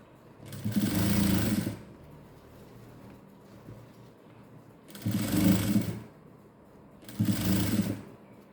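A sewing machine stitching a silk pavadai blouse, three close, loud bursts of rapid whirring stitching separated by quiet pauses, with no voices.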